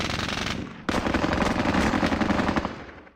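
Sustained medium or heavy machine gun fire in a Squad Battles war game, dense rapid bursts close and loud, with a brief gap before another continuous stream of shots that tails off.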